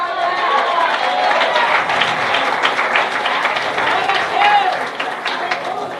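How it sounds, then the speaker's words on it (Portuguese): A church congregation applauds during a worship service, a dense, sustained wash of clapping with crowd noise and voices mixed in throughout. "A igreja pode aplaudir o Senhor?"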